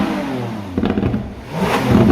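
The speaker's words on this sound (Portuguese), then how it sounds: "O que a Lamborghini fez na Aventador foi mudar essa característica desse V12 e trouxe mais notas ríspidas e embaralhadas" A Lamborghini Aventador V12 fitted with a Secret Weapon exhaust revs hard, a loud, raspy engine roar that dips briefly and then surges again over about two seconds.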